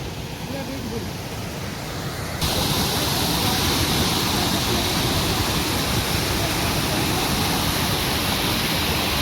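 A natural waterfall roars loudly and continuously, close by, its rushing noise growing fuller after the first couple of seconds and holding steady to the end.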